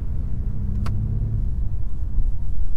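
A deep V8 engine rumble drones steadily from inside a moving 2020 BMW M5 Competition, with a brief higher whine and low road noise underneath.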